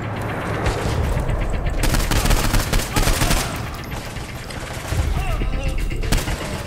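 Rapid gunfire rattles through Saints Row 4, with loud bursts of automatic shots and scattered single cracks over several seconds and someone talking at times under the shooting.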